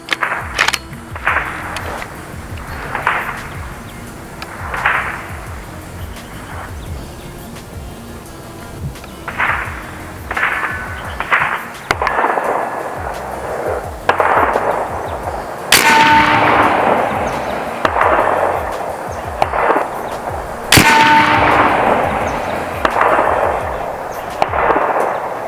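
A series of sharp, loud shots from an AEA Challenger big bore air rifle firing .50 caliber slugs, several reports spaced irregularly across the span with ringing impacts and a noisy outdoor background, no talking.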